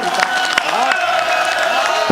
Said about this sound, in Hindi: एक बार दोनों हाथ उठाकर तालियां बजाकर